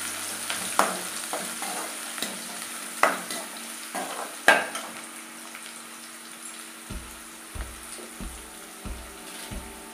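Chopped onions sizzle and fry in a pan for crab gravy, stirred with several sharp utensil scrapes and clinks over a steady hiss, then a few low soft thumps near the end.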